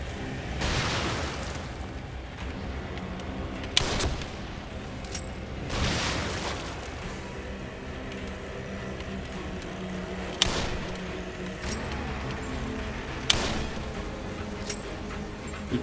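Bazooka shots and explosions from The Evil Within game boom several times over a constant rumbling game background, with deep blasts spread through the clip and a few sharp cracks.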